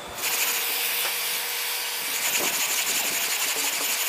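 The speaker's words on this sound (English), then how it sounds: "we can see where the high filler is getting blocked out and leveled out to the rest of this panel" Long sanding block rubbing back and forth over a skim coat of body filler on a car panel, a steady close scraping hiss with repeated strokes and no talking.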